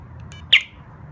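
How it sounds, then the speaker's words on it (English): A Gorilla motorcycle alarm gives a single short, high electronic chirp as it arms, close and clear against a quiet low background. "So you heard the chirp on the bike"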